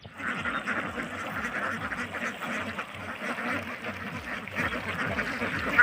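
A flock of ducks in a field of shallow water, about a foot deep, quack continuously and noisily while scattered paddy is thrown to them, many overlapping calls at close range.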